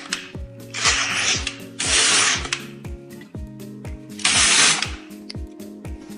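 An LK150 knitting machine carriage sweeps across the needle bed in three separate bursts of rasping, whooshing noise while knitting rows, over a steady rhythmic background of repeated clicking tones.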